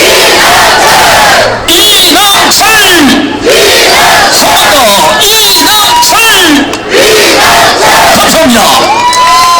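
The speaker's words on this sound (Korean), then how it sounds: "이번에는 더 큰 함성과 박수로 맞이해 주시기 바랍니다" A big crowd at an outdoor election rally roars with cheers and shouts, loud and continuous, with bursts of whooping voices and clapping mixed under an amplified announcer.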